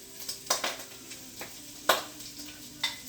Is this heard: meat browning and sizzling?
yes